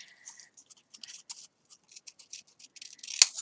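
Scissors cutting out a paper craft piece: a close, quiet run of quick snipping and rustling cuts, ending with one sharper snip.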